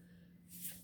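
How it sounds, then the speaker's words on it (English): A single quick human sneeze, a faint, breathy burst of hiss that peaks sharply and then trails off within a second. "That was a sneeze, my bad."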